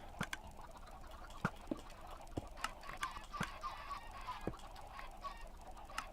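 Chickens in Minecraft cluck and squawk in scattered short calls at the base of an egg collector, several calls spread irregularly over a quiet, steady background.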